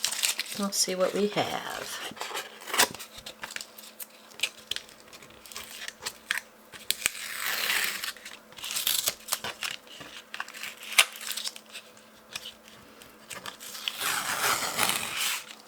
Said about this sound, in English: I'm going to remove this tape.